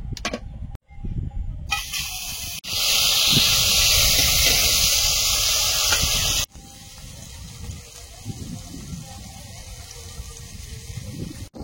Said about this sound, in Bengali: এই মাছগুলো ভাজা হয়েছে, তুলে নিলাম। আর কিছুটা আছে, সব ভেজে নেব।